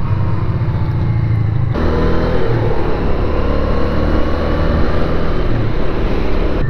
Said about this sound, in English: It sounds great. It's a great sounding engine